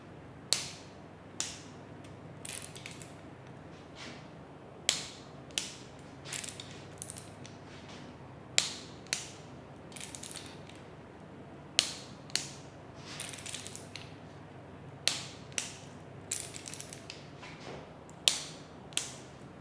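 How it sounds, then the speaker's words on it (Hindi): Torque wrench ratcheting on the crankshaft bearing bolts of an Alto 800 engine, with sharp metallic clicks in short repeated strokes and small rattles between them, close and moderately quiet, no talking. "और ये वाले जो बोल्ट्स हैं इनको टॉर्क करना है 11 न्यूटन मीटर्स पे।"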